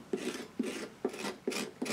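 A tool scraping out the inside of a pumpkin during carving, five evenly spaced rasping strokes at close range, soft and steady, with no voices.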